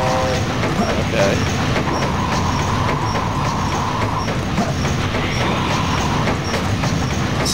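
A train rolls along the tracks of Ghost Train Mountain in Sonic Adventure 2, a steady dense rumble with faint rhythmic clatter running through the whole stretch, and game music and effects layered over it.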